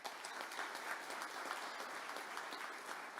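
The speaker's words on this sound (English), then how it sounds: "So give them a round of applause for that." Applause from the crowd at a casino and gaming resort grand opening ceremony in Dumfries: continuous, even clapping, faint and distant, lasting a few seconds with no voices over it.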